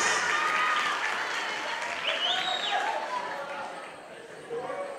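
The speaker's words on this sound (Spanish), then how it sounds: "Vuelven fuerte los aplausos." Loud audience applause with cheering voices at a pageant finalist presentation in San Simón, a dense roar of clapping that swells and eases, with an announcer's voice briefly audible above it.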